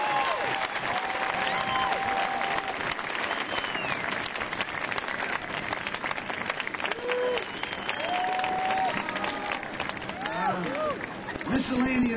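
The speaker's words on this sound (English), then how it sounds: "also a huge applause again." A large crowd applauds and cheers at an outdoor political rally concert, a dense, steady roar of clapping that runs throughout, with voices and shouts mixed in.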